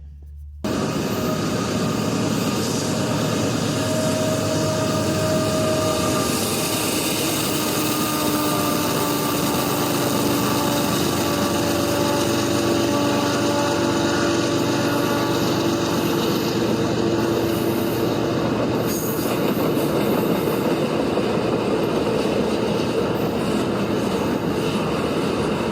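A loud, continuous rumble of a freight train passing close by, steady throughout with droning tones rising and fading over the long run.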